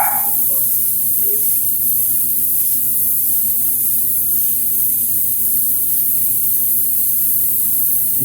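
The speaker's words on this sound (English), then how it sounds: "I'm going to just lightly mist on the skin tone." Airbrush spraying a light mist of skin tone paint onto a 1/4 scale custom Thor sculpture, a steady, loud hiss of air lasting throughout with a few faint clicks at the start.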